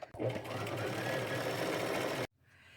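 A home sewing machine runs steadily for about two seconds, stitching the seams of upcycled pants down toward the crotch, then stops abruptly and leaves a quiet room.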